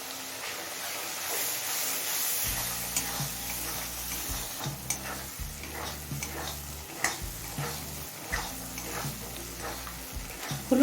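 Fish oil with turmeric powder sizzles steadily in a pan while a spatula stirs and scrapes in repeated strokes, close and continuous, with no voices.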